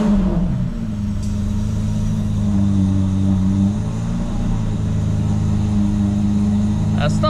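An Aston Martin V12 Vantage S fitted with an F1 exhaust idles with a deep, steady rumble that swells slightly, close and continuous, with faint voices nearby.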